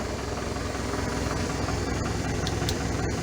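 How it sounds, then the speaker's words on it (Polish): A tractor's heavy diesel engine rumbles steadily at idle while standing still, loud and close, with a constant low throb and no voices. "A ciągnik stoi w miejscu."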